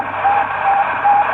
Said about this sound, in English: The beep from an orbiting satellite.